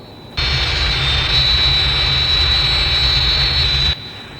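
A target aircraft's jet engine roars steadily and loudly for several seconds with a high whine on top, then cuts off abruptly; no speech.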